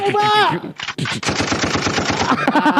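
A machine gun sound effect fires a rapid burst of loud, evenly spaced shots lasting about two seconds, following a brief, bright musical flourish.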